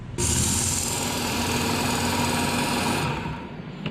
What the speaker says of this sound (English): I have my Ken Onion work sharp sharpener here